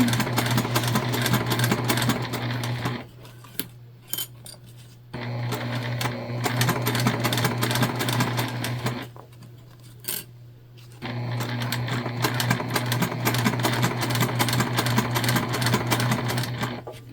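A sewing machine runs in long rapid stitching bursts with a steady hum, basting a zipper, stopping briefly twice before starting again, close and alone.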